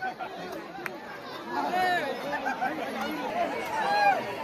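A crowd of wedding guests chatters in a lively, overlapping babble that swells louder midway, with many voices talking at once close by.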